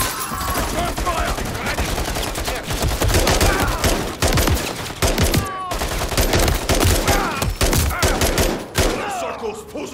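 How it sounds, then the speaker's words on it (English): Video game firefight with dense bursts of automatic gunfire and rapid single shots, loud and close, nearly continuous with brief gaps, as voices shout over the combat. "Contact! Return fire!"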